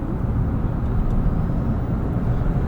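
A 2025 Toyota 4Runner Platinum's turbocharged engine hums as a steady, throaty low drone from inside the cabin while cruising, loud and continuous with no talk.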